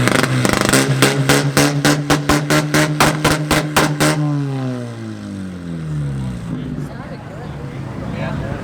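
Muscle car nicknamed 2 Point Slow revving hard in an exhaust competition, a rapid series of loud blips bouncing off the limiter, then a long falling drone as the revs settle back to idle.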